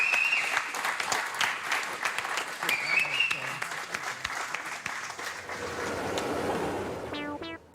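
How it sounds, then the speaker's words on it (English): A group applauds a model railway team in a competition hall, bursts of close clapping and cheering mixed with voices talking over it, settling into a softer wash before a brief tonal sound at the end. "I think it's well worthy of a huge round of applause for Team Steampunk, everybody"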